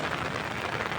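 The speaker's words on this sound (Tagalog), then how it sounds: "Maulan na po." Steady, dense rain falling outdoors in a mountain area, a continuous even hiss with no gaps and no voices over it.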